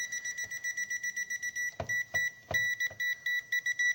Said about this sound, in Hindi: तो हम इस वायर को पास ले जाएंगे तो इसमें एक बीप का आवाज आएगा।